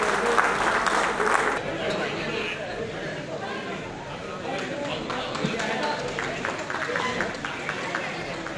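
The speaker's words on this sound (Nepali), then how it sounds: "सबैले अलिक ठुलो ताली अलिक साउन्ड अलिक ठुलो गरेर ताली बजाए" Audience applause at a music award ceremony, a dense wash of clapping from a large crowd with chatter mixed in, loudest in the opening seconds and continuing steadily throughout.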